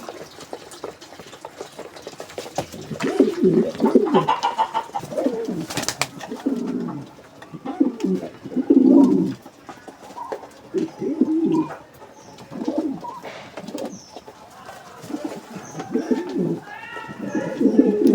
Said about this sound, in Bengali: খুবই দুষ্ট কবুতর, শুধু ঝগড়া করে।